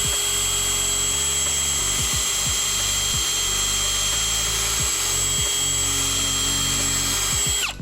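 A power drill runs steadily and loud, pre-drilling holes through thick 2x4 lumber for workbench bolts, with several short bursts where the motor briefly dips and picks back up, and no talking.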